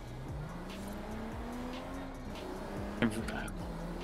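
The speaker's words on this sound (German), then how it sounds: "Nissan GT2 RS fährt." Engine of a Nissan GT2 RS driven in the racing game Forza Horizon 4, a steady droning hum with rising and falling pitch sweeps and a brief tire squeal near the end, with people talking over it.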